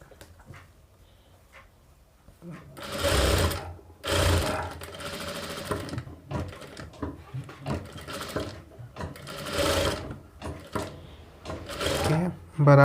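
A sewing machine stitches a princess cut blouse in bursts of rapid whirring, starting and stopping several times, close by, with someone speaking at the start and a dog whimpering faintly.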